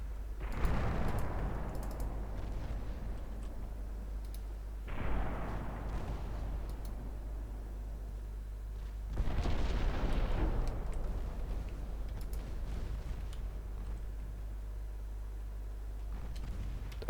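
Three heavy booming salvos from the 6-inch naval guns of the ship Aurora in a video game, each a deep blast fading slowly, spaced a few seconds apart over a low steady engine drone.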